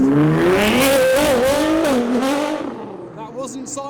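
A Nissan GTR pulls away from a supercar show, its engine note climbing loud and close before fading as it leaves, with people talking over it.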